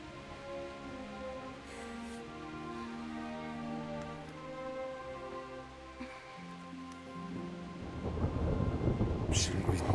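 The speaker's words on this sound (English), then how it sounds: "Not afraid of thunderstorms, are you?" A video game thunderstorm in Kingdom Come, with steady rain and low rolling thunder throughout and a heavier, louder burst of rain and crackling thunder near the end, all without speech.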